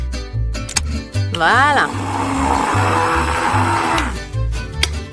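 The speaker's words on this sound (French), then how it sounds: "Il faut broyer les graines de café en poudre." A coffee grinder reduces coffee beans to powder in a loud, steady whir lasting about three seconds, with a short speaking voice just before and after.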